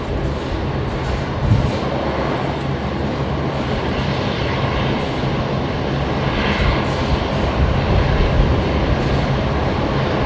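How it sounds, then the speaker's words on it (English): An ATR turboprop airliner's engines roar steadily at Brisbane Airport after pushback, a loud, continuous broadband drone lasting about ten seconds with no speech. "it's the ATR that I can hear there"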